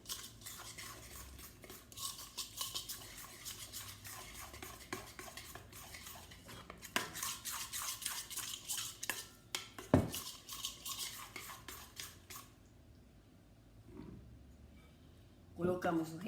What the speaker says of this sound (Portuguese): Vamos mexer.